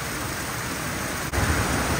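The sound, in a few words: heavy rain with water flowing over the ground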